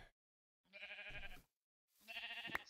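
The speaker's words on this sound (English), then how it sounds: "I'm going to kill some of these sheep" Two drawn-out sheep bleats in a video game, each a wavering nasal baa separated by a short silence, faint and with nothing else behind them.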